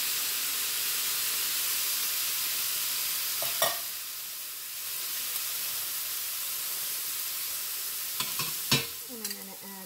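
Cuban picadillo frying in a pan gives a steady broad sizzle with faint stirring, joined near the end by a brief louder burst of hissing as the sauce hits the hot pan.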